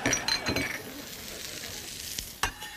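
Peas and shallot sizzle in a hot frying pan, a steady frying hiss with a few sharp clinks and stirring scrapes of utensils against the pan, fairly close.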